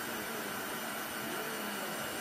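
Heat tool running on its cold setting, blowing air onto the back of a Chalk Couture transfer, a steady close hiss of rushing air with no break from start to finish.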